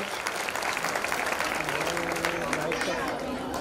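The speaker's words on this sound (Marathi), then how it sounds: "पुन्हा एकदा टाळ्यांचा गजर करूया" A crowd gathered at a public full-moon festival honoring the sixteen clan goddesses claps together, a steady, dense roll of applause holding level throughout with faint chatter and music mixed underneath.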